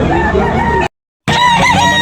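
Roosters crowing among a crowd of gamecocks for sale at a cockfight market in Tabunok, with dense overlapping calls, a brief full dropout near the middle, then more loud crowing.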